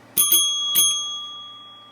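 A single bell near railway signalling rings in three sharp, close strikes, two in quick succession and then one more, each leaving a clear, sustained metallic tone that slowly fades.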